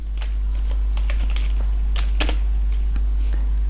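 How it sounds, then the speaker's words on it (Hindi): Fingers tap out a name on a computer keyboard in quick, uneven bursts of clicks, close by, with no talking over it. "अब मसलन मैं नाम लिखता हूँ जी"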